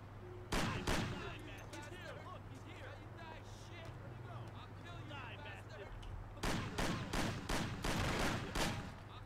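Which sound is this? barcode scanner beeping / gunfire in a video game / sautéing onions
gunfire in a video game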